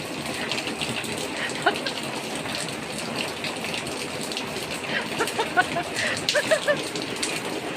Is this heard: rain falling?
yes